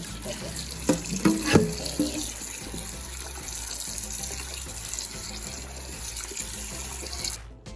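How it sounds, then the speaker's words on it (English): Water runs steadily from a tap into a sink while goat meat is rinsed, with a few clattering splashes early on before the flow continues evenly. "after we rinse it, pour that water and take a little more water."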